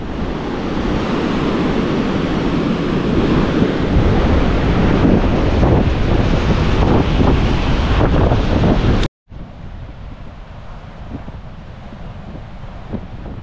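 Surf rolls onto Kata Beach in Phuket as a loud, continuous wash of breaking waves buffeted by heavy wind on the microphone, cutting abruptly to a quieter, distant ocean murmur.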